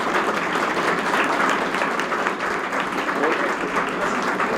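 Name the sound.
audience applause at welcoming ceremony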